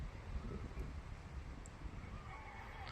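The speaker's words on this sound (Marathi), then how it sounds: "मस्त असा गार वारा येतोय इथे." Cool wind blows across open farmland beside a four-acre farm near Shirur in Pune district, a steady broadband rush with low buffeting gusts pressing close on the microphone, and no voices.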